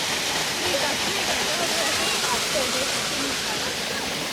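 Savri waterfall in Netravali Wildlife Sanctuary, South Goa, roars as a steady, close, broadband rush of falling water, with faint voices talking underneath.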